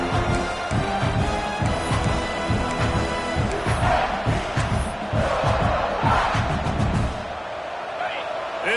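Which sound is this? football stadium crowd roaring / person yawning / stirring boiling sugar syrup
football stadium crowd roaring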